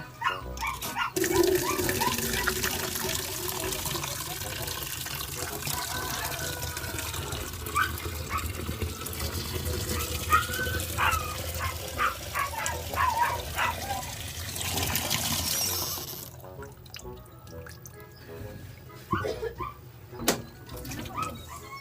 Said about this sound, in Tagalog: Bubuan na dito tubig.